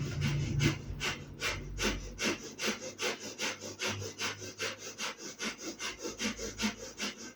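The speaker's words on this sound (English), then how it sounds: "And begin the breath of fire" Rapid yoga breath of fire: steady, quick, forceful breaths pulse in an even rhythm of about three per second, close and breathy, with no talking.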